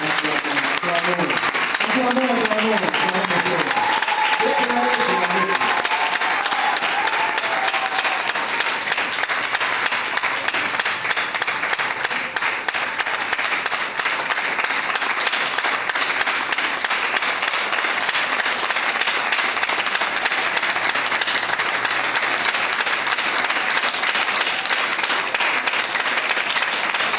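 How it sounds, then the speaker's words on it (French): A church congregation applauds during a worship service, with loud, dense, sustained clapping filling the room and continuing without a break, while a voice is heard over the noise at the start. "Acclamons le Seigneur."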